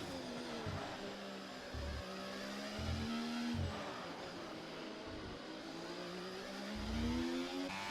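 Race cars on the last lap of a racing game at the Singapore street circuit, with engines droning and whining at moderate level and pitch repeatedly climbing and dropping through gear changes.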